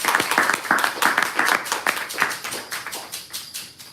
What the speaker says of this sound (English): She deserves a better round of applause.